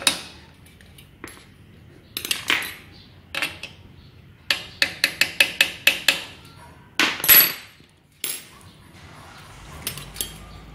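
A bicycle front derailleur is tapped into position with sharp metallic knocks, first scattered single hits and then a quick run of evenly spaced taps, close and distinct over quiet background.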